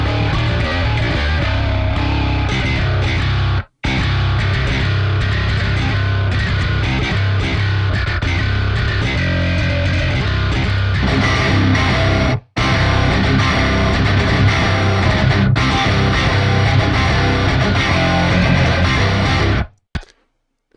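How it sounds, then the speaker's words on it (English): Loud, dense distorted electric guitar on the bass pickup with a thick low end, playing heavy palm-muted chugging riffs continuously, with a couple of brief abrupt stops. "everything gets heavy with when Werner turns on the Nolly bass pickup configuration"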